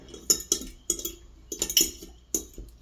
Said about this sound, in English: Let's stir some more.